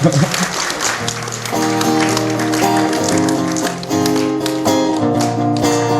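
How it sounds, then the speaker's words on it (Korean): Rhythmic audience clapping at a small concert. It runs steadily under a singing voice and instrumental accompaniment throughout. "박수 치세요."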